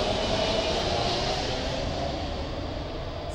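Airplane flying over near Boeing Field on its flight path beside a Costco parking lot, a steady loud broadband roar that fills the whole moment and fades slightly toward the end, with no talking.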